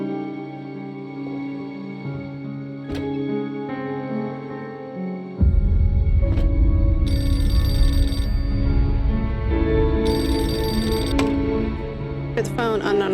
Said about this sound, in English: The phone, unknown number.